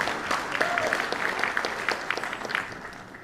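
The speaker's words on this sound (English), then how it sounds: "A big round of applause for Kelly Jones for everything she does for us." An audience at a high school band winter concert claps in a round of applause for a staff member, steady many-handed clapping that stays even throughout.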